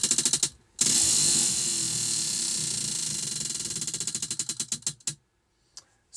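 A prize wheel spins with rapid, close ratcheting clicks that gradually slow and space out before it stops, followed by a couple of isolated ticks.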